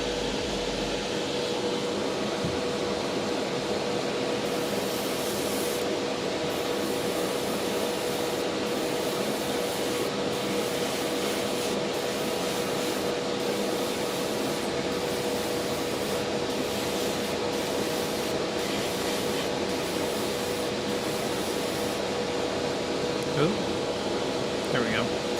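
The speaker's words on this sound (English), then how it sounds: "Now we'll just start going ahead and spraying these guys down." Aerosol sealant is sprayed onto miniatures in a series of short, evenly spaced hissing bursts, all heard over a constant mechanical hum in the room.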